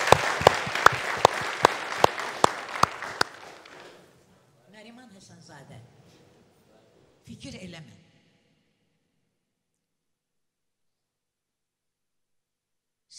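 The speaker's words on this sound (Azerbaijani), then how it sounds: "Bir alqış gəlsin, Əminə xanım." Audience applause in a studio show, a burst of hand claps that fades out over about four seconds, followed by quieter sounds and long silence.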